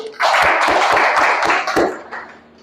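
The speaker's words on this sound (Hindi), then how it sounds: "रेहान सर के लिए एक बार हम चाहेंगे जोरदार ताली" An audience gives a loud burst of applause for a sir during a Nutricharge product training session, with a few sharp separate claps standing out over the dense clapping before it fades out near the end.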